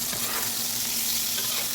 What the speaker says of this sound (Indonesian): akan saya goreng dengan sedikit minyak